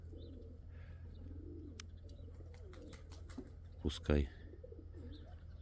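Pigeons coo softly in a loft where breeding pairs are settling onto eggs, with low repeated calls and scattered wing and perch noises. Someone talks over them, and a loud thump comes near the end.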